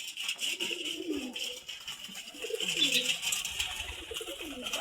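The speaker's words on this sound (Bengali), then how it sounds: "কবুতরগুলো দেখেন খালি কেমন ছটপট করতেছে খাবারের জন্য" Pigeons coo softly and repeatedly nearby, restless for food, with faint rustling and brief flutters among them.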